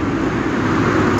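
Constant car traffic on a city main road in the morning, a brief, steady, close rumble of passing vehicles with no talking.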